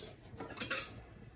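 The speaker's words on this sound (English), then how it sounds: "I'll whisk the eggs up first." Eggs whisked in a bowl for Irish soda bread, heard as a brief, quiet run of quick metallic clinks against the bowl.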